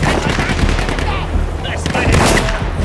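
Battlefield 1 war game battle with dense, loud gunfire and machine-gun bursts over a constant roar, heard close up with no clear talk.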